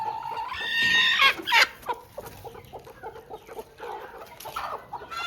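Chickens clucking and squawking close by in a coop, busy overlapping calls from several birds, loud at first then settling into scattered clucks.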